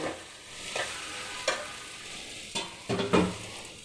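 Eggplant frying in a covered pan for a Bengali chorchori, making a low steady sizzle broken by a few spatula clinks and scrapes nearby.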